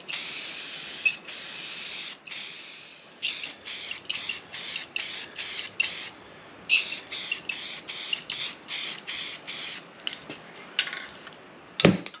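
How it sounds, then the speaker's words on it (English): Short hissing bursts of spray paint repeat in a quick, uneven rhythm, some longer sprays at first, then many rapid close-up puffs. "we're going to spray these down with some paint"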